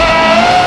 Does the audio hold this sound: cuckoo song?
no